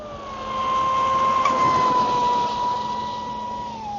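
A ProBoat SonicWake 36-inch V2 RC boat runs at full throttle, its electric motor giving a steady high-pitched whine that holds for several seconds, briefly rising in the middle, then sliding slightly lower near the end.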